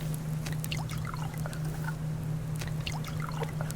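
Water poured to refill a container in the video game Subsistence, a steady trickling, splashing stream over a constant low hum, continuous and fairly close, with no voices.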